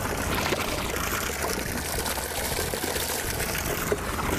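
Water of the Devichya Kosa waterfall near Kezenoy-Am in Chechnya pours and splashes in a steady, loud, unbroken rush, with no voices over it.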